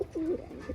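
A pigeon at a loft in Jaynagar coos in low, throaty, rolling phrases, one swelling call and then a softer follow-on, close by with no voices.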